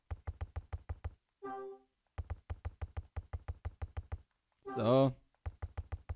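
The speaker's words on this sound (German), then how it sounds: "wir klopfen jetzt einfach mal von den ganzen Seiten" Knocking on a cardboard box in the video game Hotel Dusk: two runs of quick, evenly spaced hollow knocks, close and crisp, separated by a brief spoken word and a short burst of game sound.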